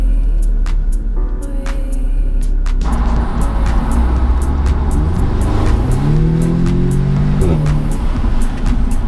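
An Audi S3's 2-litre turbo engine, rated at 296 brake horsepower, idles loudly and then revs repeatedly, its note climbing and falling in several sharp, close pulls.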